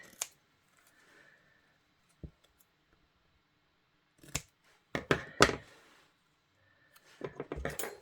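Scissors cutting paper sentiments for a papercraft project, a few isolated crisp snips followed by a quick burst of rapid cuts, close and clear against near silence.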